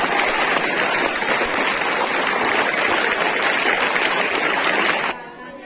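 An audience at a school Children's Day celebration in Bhopal applauds steadily and loudly for several seconds, a dense wash of clapping that suddenly drops away at the end.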